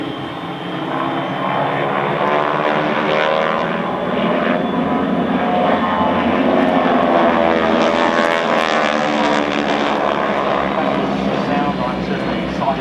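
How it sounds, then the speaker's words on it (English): A formation of Southern Knights propeller aircraft flies overhead at an air display, their engines a steady loud droning roar with shifting, rising and falling tones as the planes pass, continuous throughout. "I'm certainly excited by hearing these aircraft with the colour, noise, action, smoke trail."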